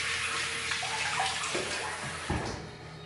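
Running water pours steadily from a tap as a razor is rinsed mid-shave, a close, continuous splashing stream with a few brief knocks and splashes near the end.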